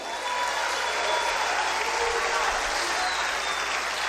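Church audience at a Holy Spirit conference applauding together, a steady dense wash of clapping that holds evenly throughout, fairly loud and close, with faint voices mixed in.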